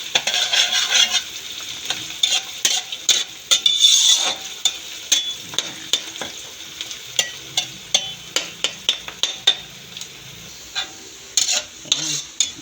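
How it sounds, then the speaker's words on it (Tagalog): Garlic and onion sauté in a pan as the base for pork giniling, giving a light crackling sizzle under frequent sharp spatula scrapes and taps against the pan that come in quick, uneven bursts. "Isa po tayo ng bawang sibuyas muna."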